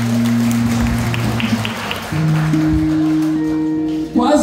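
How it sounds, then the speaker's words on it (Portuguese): A church congregation applauds, steady clapping washing under sustained keyboard chords and voices, close and fairly loud throughout. "Vamos aplaudir o Senhor."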